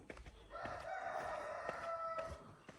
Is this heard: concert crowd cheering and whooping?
no